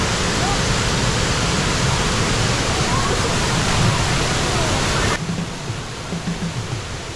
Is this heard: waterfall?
yes